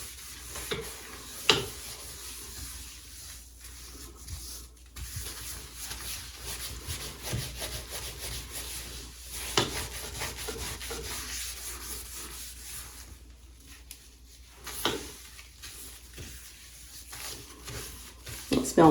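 A sink bowl is scrubbed by hand during slow household cleaning, with steady rubbing and scouring strokes that come close and fairly quiet, broken by a few sharper knocks.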